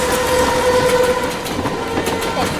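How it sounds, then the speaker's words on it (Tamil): A train rumbles close by with a sustained horn tone at the start, followed by rattling wheels as it draws near. "ட்ரெயின் நம்ம பக்கத்துல வந்துருச்சு"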